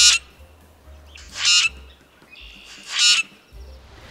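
A grackle calling, with about three harsh, squeaky rising squawks spaced more than a second apart, fairly close against a quiet background.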